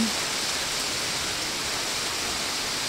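Typhoon rain falls in a steady, dense hiss, a constant even wash of drops with no pauses, moderately loud and filling the surroundings.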